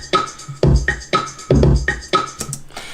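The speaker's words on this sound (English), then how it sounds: "By itself, the sample of that street drummer sounds like this." A street drummer's percussion sample plays alone: a repeating rhythm of deep, booming low hits about once a second, with lighter, crisp mid-range strokes in between.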